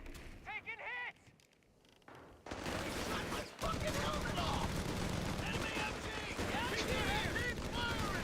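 Machine gun fire from Company of Heroes with a Little Green Army Men mod starts after a quiet stretch and becomes a sustained, dense clatter of rapid shots, with voices talking over the din.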